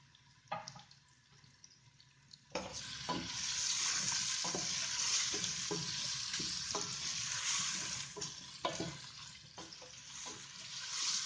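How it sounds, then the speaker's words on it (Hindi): Potatoes drop into a hot pan with garlic, a sudden loud sizzle surging up and holding steady, broken by faint stirring clinks and scrapes. "अब सबसे पहले इसमें आलू डाल देने।"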